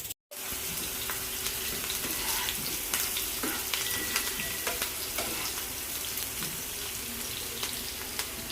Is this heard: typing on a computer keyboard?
no